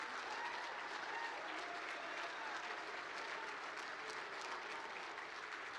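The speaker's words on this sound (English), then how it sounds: "please give another round of applause for these incredible" An audience at a historic preservation program gives a sustained round of applause for a group of influencers, even and continuous at moderate distance and fairly quiet overall.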